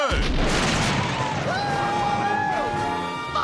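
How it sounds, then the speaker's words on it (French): Civil War reenactors in period costume firing cannons at a house during a home makeover: a heavy boom opens, followed by a long rumbling roar and ringing tones as the blast decays. "Nordistes et sudistes réunis en train de tirer au canon sur la maison."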